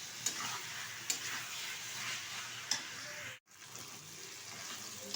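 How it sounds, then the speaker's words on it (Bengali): Chicken curry with spices, tomato paste and chopped coriander leaves, cooked Barisal style, is stirred in a pan on the stove. Quiet sizzling runs steadily throughout, broken by a few sharp scrapes of the spoon, with no voices. "বেশ কিছুক্ষণ আবারও নেড়ে চেড়ে নেব।"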